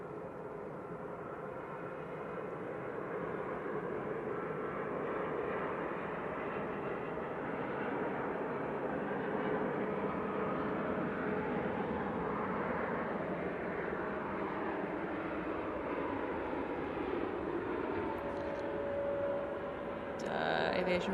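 TUI airliner passing at Manchester Airport, a faint, sustained broadband jet rumble that holds steady and swells slightly midway, heard at a distance.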